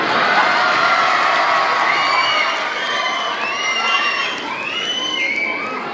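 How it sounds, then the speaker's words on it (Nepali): A crowd at a comedy show in Rukum cheers, hoots and shouts, with children's high voices among them, loud and sustained without a break through the whole stretch. "मेरा मान्छेहरूको हुटिङ त देखियो होला नि"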